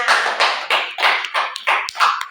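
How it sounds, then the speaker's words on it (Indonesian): Short bursts of classroom applause for a student, several quick rounds of clapping hands, close and lively, with no talking over them. "beri aplaus buat temannya"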